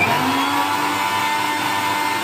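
A kitchen mixer grinder whirs steadily, grinding cumin seeds and a head of garlic with a little water into a fine paste, a loud continuous motor drone with no talking.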